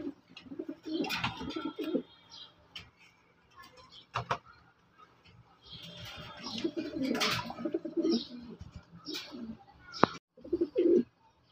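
A silver Sirazi running pigeon pair coos in short soft bursts at close range, with brief rustles and faint chirps between, no speech.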